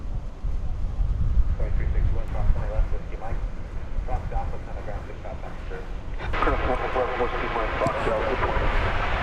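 Airliner arriving at DFW Airport at night, a steady broad engine roar that swells louder about two-thirds through as the jet passes nearer, with voices talking over it.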